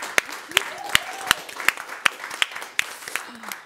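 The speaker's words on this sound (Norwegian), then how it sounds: "gi Hege en skikkelig applaus for den jobben hun har gjort som NJ-leder" Applause in a meeting hall for Hege, the departing leader, heard as about ten sharp, evenly spaced claps standing out over a thinner patter, with voices in the room.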